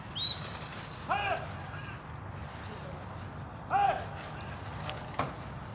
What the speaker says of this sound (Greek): Η εκκίνηση ήταν θεαματικότατη. Φύγανε σπαθιά τα περιστέρια του.